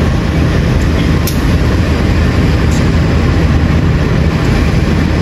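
Diesel locomotive 20142 of the Sawunggalih train idling at Kutoarjo station, a steady loud broadband engine rumble with continuous low drone and a faint high whine, constant throughout with brief sharp clanks.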